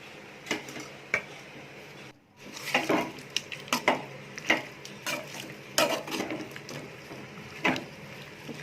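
A spoon stirs pumpkin poriyal around a metal pan, making close, irregular clinks and scrapes over soft rustling, with a brief silent gap early on before the stirring carries on steadily.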